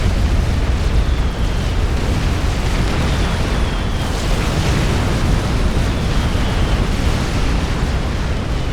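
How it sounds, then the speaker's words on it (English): Bombs from a bomber striking its own base in the real-time strategy game Forged Alliance, a continuous loud roar of overlapping explosions and booming blasts rumbling without pause throughout. "Pink Bomber having to bomb his own base"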